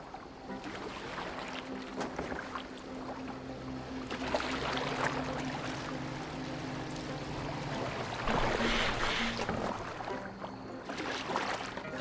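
A Viking longboat glides across water in Assassin's Creed Valhalla, with swells of splashing and rushing water rising and fading over a low steady drone, wind brushing through.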